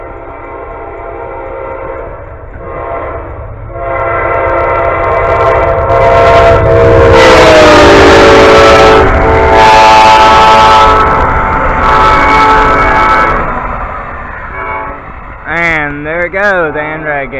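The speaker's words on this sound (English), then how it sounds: "Here comes another train. Amtrak 89. Southbound." Amtrak 89 passenger train passing southbound, loud rumble of rolling cars building and swelling as it goes by, with horn blasts sounding over the passage and a voice briefly heard near the end.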